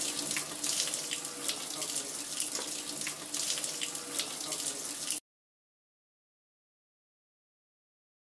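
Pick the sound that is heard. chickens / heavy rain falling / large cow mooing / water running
water running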